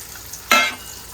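Spiny gourd (kantola) pieces are dropped into moderately hot oil with turmeric, making one sudden loud sizzle that fades within a fraction of a second in an otherwise quiet kitchen.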